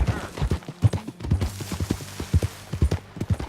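Horse hooves clip-clop in a steady trotting rhythm in Red Dead Redemption 2 on a ranch, close and clear with repeated sharp impacts over a low rumble, no talking.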